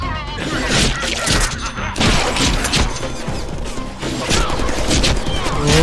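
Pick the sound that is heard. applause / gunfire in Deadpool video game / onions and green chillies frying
gunfire in Deadpool video game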